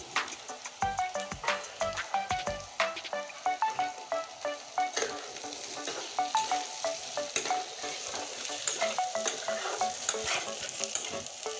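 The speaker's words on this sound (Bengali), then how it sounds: "এবার পেঁয়াজ আর আলু একসঙ্গে আমি কষিয়ে নেব আলুটা এখন ছেড়ে দিচ্ছি পেঁয়াজের ভিতরে" Sliced potatoes and onions stirred and fried together in a pan give a steady sizzle, broken by repeated rhythmic scrapes and clinks of a utensil against the pan, with no talking.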